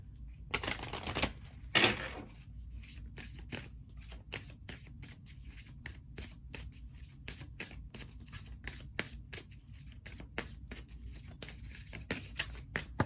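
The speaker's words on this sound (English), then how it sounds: "let's pull you a couple of cards from the Avalon deck" Tarot cards from the Avalon deck are shuffled and riffled in a long run of quick, crisp flicks and taps. The sound is close and fairly quiet, with a short burst of louder shuffling near the start and no talking.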